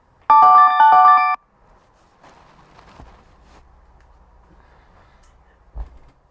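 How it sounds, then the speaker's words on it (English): A loud device notification chime rings out as a burst of stacked tones lasting about a second, during a mindfulness and movement session, followed by quiet room noise, faint shuffling and a soft thump. "Forgot to turn off notifications."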